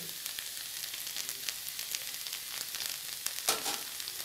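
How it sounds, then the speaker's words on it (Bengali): Okra frying with onion, curry leaves and green chilli in a pan, a quiet steady crackling sizzle with occasional stirring scrapes, close but faint, no voices. "এবার এই পেঁয়াজ আর কারি পাতা কাঁচা লঙ্কা এর সঙ্গে এই ভেন্ডিগুলো আরেকবার ভালো করে ফ্রাই করে নিতে হবে।"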